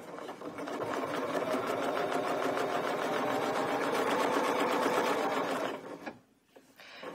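A domestic sewing machine runs steadily while quilting deep arcs against a ruler, a fast, continuous mechanical hum and needle chatter that holds for several seconds before abruptly stopping, then faintly restarting.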